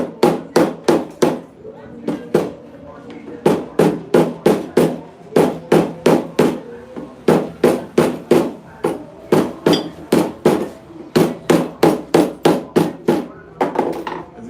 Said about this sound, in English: So I'm gonna use my hammer.